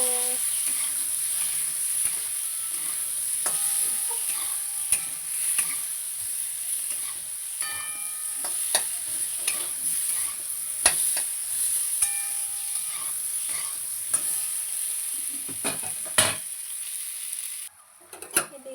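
Chili powder and dried chilies fry in oil for a chutney with a steady close sizzle and hiss, broken by scattered clinks and scrapes of stirring, before the frying noise cuts off near the end.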